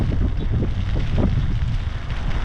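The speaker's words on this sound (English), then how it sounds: "Windy, rainy." Gusting wind and rain outdoors on a gray day at Harpers Ferry, buffeting the microphone in loud, rumbling bursts with a steady wash of noise underneath and no voices.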